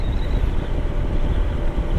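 Cold wind on the mountain road near Marilaque, outside Metro Manila, buffets the microphone in a loud, continuous low roar with no talk.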